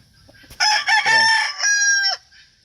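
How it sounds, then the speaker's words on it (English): A tough old rooster crows once, loud and close, in a single long cock-a-doodle-doo outdoors in a backyard between rain storms, with quiet before and after. "Tough old chicken."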